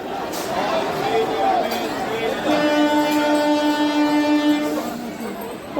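A train pulls into Panskura station, its horn sounding a long sustained blast over rumbling wheels and platform crowd noise, loud and close.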